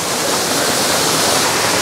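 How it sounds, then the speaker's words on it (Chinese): Waterfall water pours onto rocks inside a water-curtain cave at Furong town in Xiangxi, a loud, unbroken roaring splash that fills the space evenly. "水打在石头上面，噼里啪啦。"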